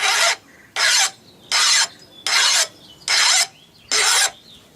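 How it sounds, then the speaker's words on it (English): A new Mexican-made metal file rasps across the corner of a hardened steel Allen wrench in six loud, even strokes, each about half a second long with short pauses between. "Now I've got a pretty new made in Mexico file here."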